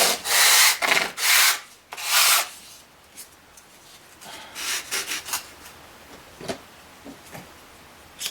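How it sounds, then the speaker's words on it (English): A sanding block scrapes back and forth against a rough surface on an N scale model train layout part in several loud, close strokes, then lighter, scattered rubs trail off. "we're going to try a sanding block and see if that'll work"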